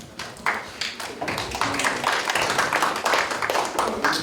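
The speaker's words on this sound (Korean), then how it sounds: "따뜻한 박수로 맞이해 주시길 바랍니다" An audience in a large auditorium at a Korean industrial-complex ceremony claps warmly to welcome a committee chairman, a dense, continuous patter of many hands with no talking over it.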